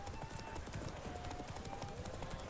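The horse Roach gallops in The Witcher 3, steady clip-clop hoofbeats in a quick rhythm running throughout, fairly faint, with a low hum beneath.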